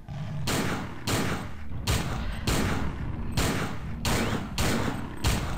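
Repeated heavy gunfire in the game System Shock 2, with about eight loud booming shots at a steady, roughly rhythmic pace.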